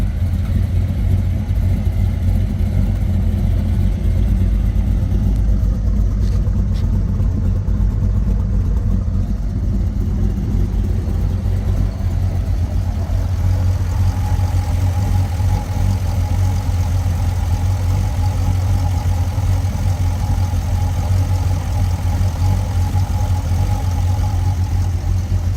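A cammed 1998 Chevrolet Corvette with an LSX engine on E85 rumbles loud and close, a deep steady idle that swells slightly partway through, with no talking.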